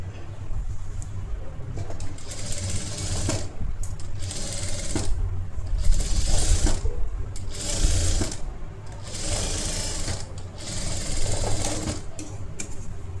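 A sewing machine stitches a blouse neck in a steady whirring run, pausing several times for short gaps before starting up again, close and fairly loud with no talk over it.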